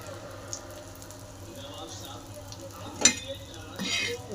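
Green chillies fry in hot oil with a quiet, steady sizzle, a few stirring scrapes and clinks breaking through near the end while a person talks over it.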